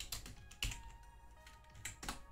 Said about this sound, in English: I'm just going to type animated wallpapers.